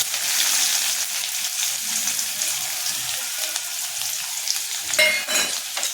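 Cumin and onion frying in a pan, a bright, steady crackling sizzle with a louder burst of spitting near the end, no speech.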